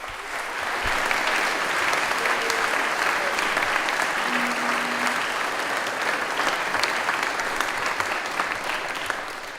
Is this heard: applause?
yes